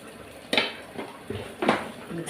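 A spoon clanks against a pot while chilli powder is stirred into vegetables, giving a few sharp metallic knocks spread over a couple of seconds, close by, with a voice heard talking quietly underneath.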